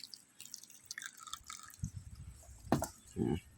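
Boiled water poured into fermented fish sauce in a cup, a faint close trickle with small drips and splashes that grow louder toward the end.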